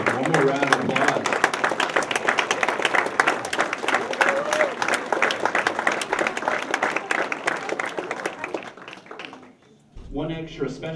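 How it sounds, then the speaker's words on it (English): An audience at a hall of fame ceremony breaks into a steady round of applause for an honoree, dense clapping that fades out near the end before a voice resumes speaking. "One more round of applause."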